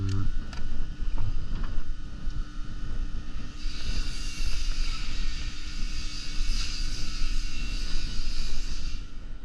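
An air conditioner compressor runs steadily outdoors during an amp draw test, a continuous droning hum with a brighter whine rising partway through and some wind noise across the microphone.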